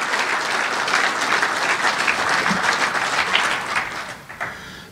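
A steady round of applause for a drag racing shootout champion at an awards event, dense even clapping from an audience that fades out at the end.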